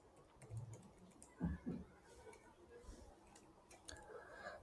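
Typing on a computer keyboard comes through as soft, irregular key taps with a couple of louder clacks near the middle, close and quiet, with no clear speech.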